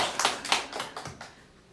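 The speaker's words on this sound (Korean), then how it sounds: "박수 한번 쳐주세요." Church congregation clapping during a Korean Sunday service, a short burst of scattered hand claps that thins out and fades within about two seconds.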